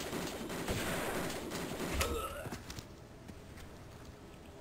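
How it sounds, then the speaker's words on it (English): Enemy gunfire in Tomb Raider II on an offshore rig, a dense crackling burst of shots that fills the first half before thinning into sparse, quieter pops and game ambience. "Who's shooting me from all the way over there?"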